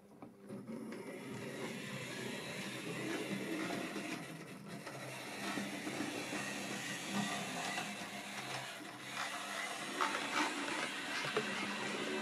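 A Hornby L&MR Lion model locomotive runs over model railway points, giving a continuous faint mechanical whir with light clicking, close and steady, with no talking.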